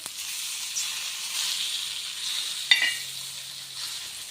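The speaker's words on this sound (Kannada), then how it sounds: "ಈ ರೀತಿ ಎರಡು ಕಡೆ ಎರಡೆರಡು ನಿಮಿಷ ಫ್ರೈ ಮಾಡಿದರೆ ನೀಟಾಗಿ ಫ್ರೈ ಆಗುತ್ತೆ" Masala-coated fish frying in a pan on a low gas flame gives a steady, close sizzle, broken once by a brief clink of a utensil partway through.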